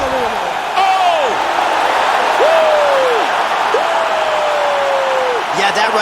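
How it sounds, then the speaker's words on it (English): An arena crowd roars after a knockout in UFC 4, a steady, loud wash of cheering and applause with a voice speaking over it in rising and falling exclamations. "Crowd absolutely loving it."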